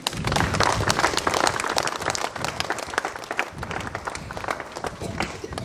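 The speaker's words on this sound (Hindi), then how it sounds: "इस संध्या की बेला में हमारे स्वामी जी को स्वागत करते हुए जोरदार तालियां बजा देंगे।" Loud, dense audience applause welcoming a bishop at an evening blessing of a boys' hostel in Bishrampur, Daltonganj diocese. Many hands clap together continuously, easing slightly toward the end.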